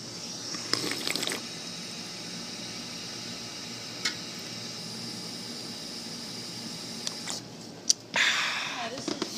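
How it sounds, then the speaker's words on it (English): A water fountain in an old sawmill building runs with a steady, even hiss of flowing water, carrying on continuously with a few sharp knocks and clicks over it. "The water fountain's the first thing works."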